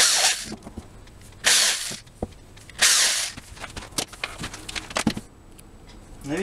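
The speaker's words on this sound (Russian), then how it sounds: "Засверливаем заготовку сверлом диаметром 6 мм." Three short bursts of a power drill with a 6 mm bit whining into an oak blank, separated by clicks and handling clatter, close and fairly loud.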